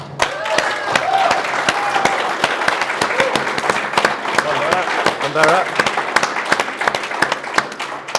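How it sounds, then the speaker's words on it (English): A studio audience gives a sustained round of applause at a hurling final show, dense clapping running steadily throughout with a few brief cheers mixed in. "So a big round of applause, please"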